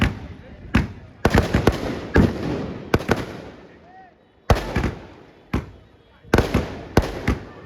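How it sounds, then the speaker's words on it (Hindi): Fireworks burst overhead at a rooftop pigeon-flying celebration: a string of sharp, loud bangs and crackling pops in irregular clusters, with a faint whistle between them and voices in the background. "आतिशबाजी पूरी चल रही है भाई"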